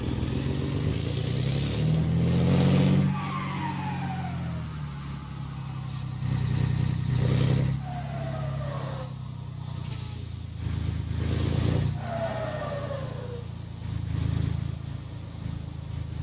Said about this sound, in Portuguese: Vamos aí com o motor original do 113.